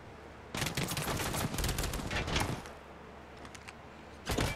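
Enemy gunfire in a shooter video game rattles out in a dense, loud burst of rapid shots lasting about two seconds, then thins to scattered pops before a short final volley.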